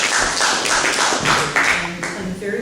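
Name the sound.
audience applause at an award ceremony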